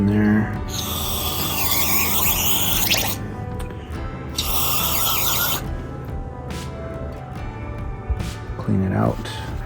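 Cleaner sprays in two long hissing bursts into the idle air control valve of a Miata, its gasket removed, with faint rattling and handling noises between and after the sprays.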